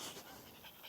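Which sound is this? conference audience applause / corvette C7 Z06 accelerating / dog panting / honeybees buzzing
dog panting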